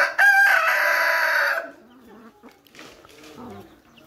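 Backyard chickens gathered in a flock to feed on freshly cut grass: a rooster crows loudly and close for over a second, followed by quieter scattered clucks and soft farmyard sounds.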